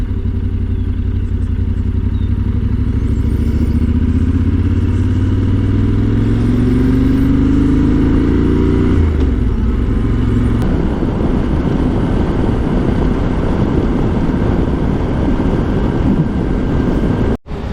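A motorcycle rides along a road in Suriname on a morning trip, its engine and wind roaring loud and steady throughout. The tone shifts about halfway through, and the sound cuts off abruptly at the end.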